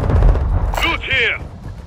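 Gunfire from the video game Call of Duty: a burst of loud, dense shots at the start, followed by a voice speaking over the game audio.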